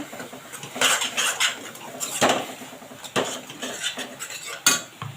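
A spoon scrapes and clinks against a metal pan, stirring ginger-garlic paste into fried onions for lauki kofta curry; irregular close scraping strokes and taps with no talk.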